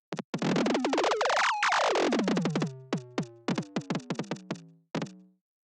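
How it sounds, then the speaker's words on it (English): Synthesized electronic kick drum built in a soft synth, a string of punchy sweeping hits with a long pitch-sliding tone near the start, then shorter repeated kicks in a loose rhythm, loud and dry with no voices. "this is definitely the kick"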